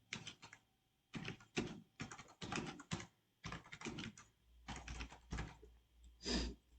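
Computer keyboard typing while entering a school name into an online form, heard as bursts of rapid key clicks separated by short pauses, fairly close and with no speech.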